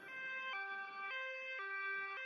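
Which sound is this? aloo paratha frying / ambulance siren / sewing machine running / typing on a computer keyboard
ambulance siren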